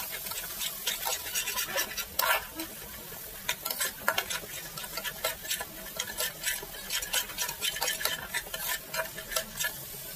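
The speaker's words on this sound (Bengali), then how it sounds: "তোমরা দেখতে পাচ্ছ কীভাবে আমি নেড়ে চেড়ে কষাচ্ছি" Masala for a snakehead fish curry is stirred and fried in a pan, with rhythmic spatula scraping over a soft, steady sizzle, close up and fairly quiet.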